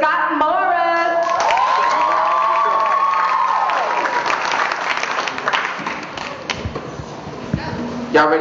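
A school audience at Wadleigh Secondary School applauds and cheers for Mr. Scott Morris, dense clapping and whoops from a large nearby crowd lasting several seconds, mixed with children's shouts and a voice talking over it.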